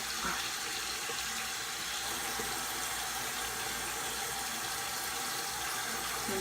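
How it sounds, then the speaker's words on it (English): Water runs steadily from a bathroom tap into a sink, a constant broadband hiss of moderate loudness that continues without pause, close by and alone with no talking. "I thought I turned on the cold water, but it was all hot."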